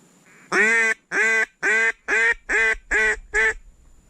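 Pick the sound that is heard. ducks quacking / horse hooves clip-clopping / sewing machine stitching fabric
ducks quacking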